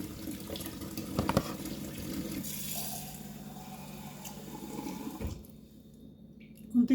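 A small amount of water poured into a cooking pot in a home kitchen, a steady close splashing stream lasting several seconds before it stops, with no talking.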